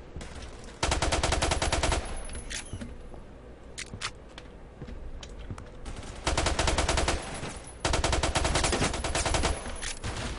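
Automatic gunfire in the video game Phantom Forces comes in several loud rapid bursts with scattered single shots and quieter gaps between them, and no voices.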